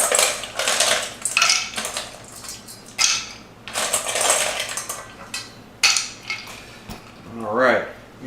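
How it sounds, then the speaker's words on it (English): Ice cubes dropped and scooped into a glass for a mixed drink, a series of clattering, crunching clinks in uneven bursts with short pauses between. "Now we'll top this up with some ice."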